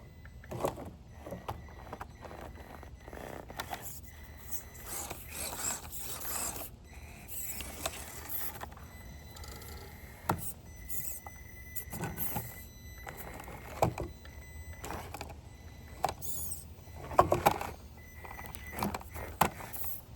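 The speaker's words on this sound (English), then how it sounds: "You can kind of hear that ESC whining a little bit." An RC rock crawler creeping slowly over a homemade obstacle course, its electronic speed controller giving a faint high whine among intermittent clicks, ticks and rattles of the chassis and tires.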